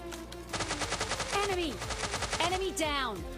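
Thompson automatic gun firing in a battle royale video game, a rapid steady burst of shots that runs for most of the clip, with other game effects sweeping in between the rounds.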